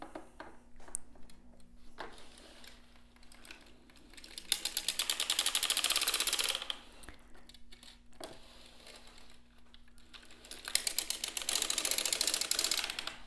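A hand-cranked sock knitting machine is turned in bursts, producing rapid metallic clicking and clattering of needles in two main runs separated by quieter handling, close up, with no speech.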